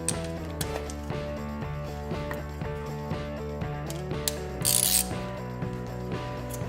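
A ratchet with a 1/2-inch socket works loose wheel hub bolts during a hub replacement, making rapid, repeated metallic clicking of the pawl at close range, with no voices.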